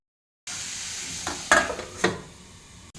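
Cut cluster beans (gorichikkudukaya) frying in a pan, with a steady sizzle under a few clattering stirs of the spoon against the pan.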